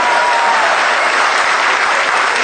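A crowd at a political rally against Modi claps loudly and steadily, a dense unbroken wash of applause filling the space with no voices on top.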